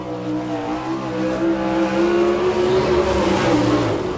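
Sprint cars roar around the dirt oval at Chillicothe, Ohio in an All-Star Speedweek heat, a loud continuous wall of engine drone with a rising pitch as the pack sweeps by.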